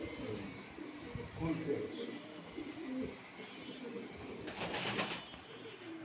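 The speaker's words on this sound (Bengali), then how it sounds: "এটি আবার হাই ফ্লোর কবুতর" High flyer pigeons cooing softly nearby, low murmuring coos under someone talking, with a brief brighter rustle or flutter near the end.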